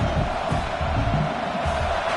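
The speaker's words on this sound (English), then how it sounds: "And this crowd coming to life here, trying to help the defense get a stop with the offense pinned back." A stadium crowd in the Blood Bowl fantasy football video game roars steadily as the defense tries to get a stop, a dense continuous wash of cheering with no breaks, loud throughout.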